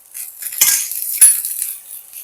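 A utensil stirs fried onion and garlic paste in a cooking pan, giving two brief scraping strokes with light metallic clinks over a soft sizzle. There is no talk.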